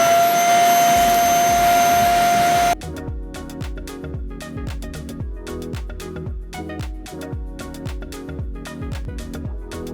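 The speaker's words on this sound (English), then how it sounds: "the fully dry pieces are actually vacuuming up a lot easier" A vacuum cleaner roars loudly as it sucks dried Play-Doh from carpet, then gives way to rapid, rhythmic rattling and clicking pulses from the machine.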